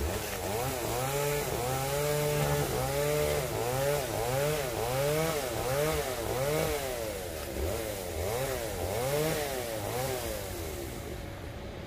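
A chainsaw cuts through a golden oak tree branch, engine rising and falling in repeated revving surges as the chain bites, loud and close throughout.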